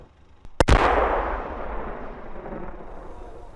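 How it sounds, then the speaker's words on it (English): Ukrainian artillery fires from fields near Bakhmut: a single sharp, powerful boom followed by a long rolling rumble that slowly fades, with no voices. "Ukrainian artillery fires from nearby fields."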